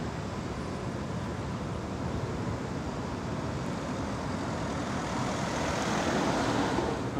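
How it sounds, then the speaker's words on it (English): Press and staff vans from a presidential motorcade pulling away at a NATO summit security operation, a steady broadband traffic rumble that swells slightly toward the end, heard at a distance. "So some of the press van staff vehicles just leaving"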